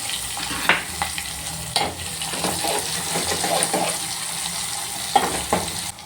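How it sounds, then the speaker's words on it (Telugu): Cumin and mustard seeds crackle and sizzle in hot oil while a spoon knocks and scrapes the pan several times, the hiss staying constant underneath. "ఆయిల్ మంచిగా వేడైంది. ఇప్పుడు ఇందులోకి జీలకర్ర, ఆవాలు"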